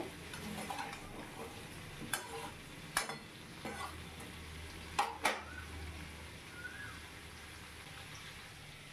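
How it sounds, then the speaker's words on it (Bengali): Vegetables for khichuri are stirred and turned in a pan with a spatula, a steady low sizzle running throughout with several sharp scraping clacks of the spatula against the metal. "খুন্তি দিয়ে ওপর নিচ সুন্দর করে নাড়াচাড়া করে নিতে হবে"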